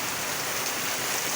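Steady rain pours down during an evening downpour heavy enough to cut the power, a dense, even hiss of drops on surfaces that holds constant throughout with no voices.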